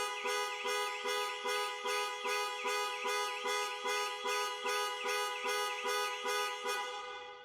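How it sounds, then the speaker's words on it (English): A Jaguar E-PACE panic alarm blares its horn in a fast, regular pulsing pattern, about two blasts per second, steady and fairly loud for several seconds before tailing off. "Press for 3 seconds or press 3 times in 3 seconds, the horn will sound and the hazard lights will flash."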